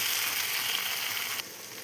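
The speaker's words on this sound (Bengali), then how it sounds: "এবার আলুটা ভেজে নেব।" Steady, dense sizzling of potatoes frying in a pan, loud and continuous, easing slightly toward the end.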